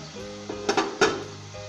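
A spoon works tomato ketchup into chicken macaroni in a pan, producing a few quick clinks and scrapes against the metal over a low, steady background.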